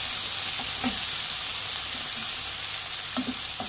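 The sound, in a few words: onions frying until brown for tomato gojju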